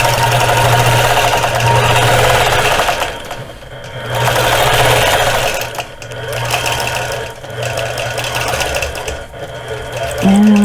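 A sewing machine stitches quilting on a strawberry basket quilt block, with cross-hatch and feather patterns. It runs loud and steady in sustained bursts, with brief pauses and a short tone near the end.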